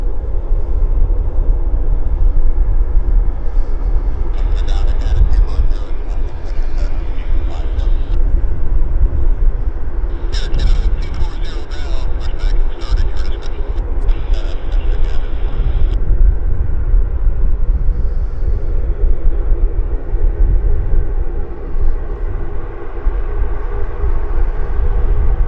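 A heavy airliner departs Vancouver International Airport from runway 26 left, a loud, steady jet roar that swells and holds for the full stretch with bursts of high hiss, heard alone with no talking.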